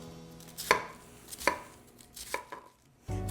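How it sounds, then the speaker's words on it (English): A knife chops green onion on a cutting board in several sharp, separate strokes at an uneven pace, close up, followed by a soft low rustle. "So I'm chopping up some green onion."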